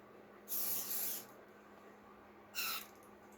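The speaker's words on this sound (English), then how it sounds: "we're going to spray the barrel." Ballistol lubricant is sprayed onto a handgun barrel in two hissing aerosol bursts: a longer one of about three quarters of a second, then a short one. It is close and fairly quiet, with no talking.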